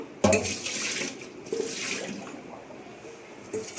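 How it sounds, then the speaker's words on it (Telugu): Rinse water splashes out of a bowl in a home kitchen while chip slices are washed, with a sudden pour, a couple of smaller splashes and trickles, then a final splash. "ఇప్పుడు ఈ వాటర్ ఒప్పేద్దాము"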